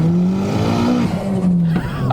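A 413bhp flame-spitting side-exhaust Ford Fiesta ST pulls hard in second gear, its engine droning loud and close with a steady rising note, a brief dip as it shifts pitch, then climbing again.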